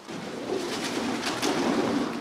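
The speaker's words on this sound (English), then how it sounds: "There's a lot of pigeons in here." Pigeons coo in an abandoned old building with a stage, soft, low burbling calls repeating over a steady hissy room ambience, moderately close.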